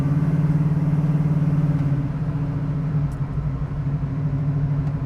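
A deep, rumbling 1971 Chevrolet Camaro engine runs steadily up close, its low throb easing slightly partway through while the car drives.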